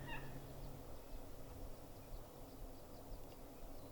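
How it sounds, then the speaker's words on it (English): A Merriam's turkey gobbler with an apparent vocal cord problem gobbles faintly and brokenly in the distance, muffled short calls repeating over steady outdoor background noise. "he's gobbling, but you can just barely hear it"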